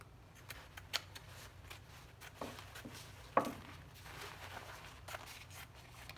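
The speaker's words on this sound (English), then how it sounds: "And then I'm going to trim off my edges." Scissors trimming the fabric edges of a heat press pillow, giving a few faint, scattered snips and small handling rustles over a quiet background.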